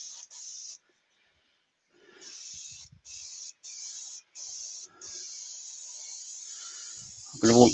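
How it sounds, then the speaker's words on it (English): Close hissing bursts of an aerosol spray paint can, several short sprays in a row, then one long continuous spray, ending with a clatter. "So I've got it all set up, and we're going to spray it."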